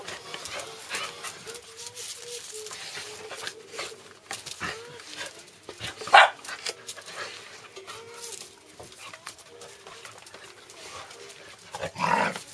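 Dogs whimpering and giving short barks at a farm, moderately close, with a couple of louder yelps standing out over background rustling and faint talk.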